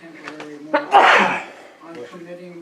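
A single sharp sneeze bursts out in the middle of steady speech at a sanitary district board meeting, with a person talking before and after it.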